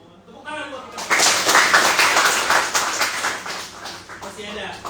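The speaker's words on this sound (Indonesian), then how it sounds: "Tepuk tangan buat kita." Audience at a campus tax-awareness event bursts into applause that builds quickly and holds steady for several seconds, fairly close and loud, with a few voices mixed in before it tapers off.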